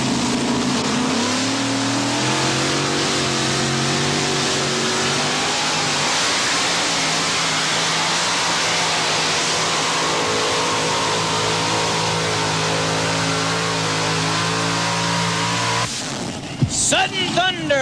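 A modified pulling tractor with stacked 454 Chevy engines roars at a 1989 state fair pull, a loud sustained engine drone with rising pitch as it strains down the track, with an announcer talking over it.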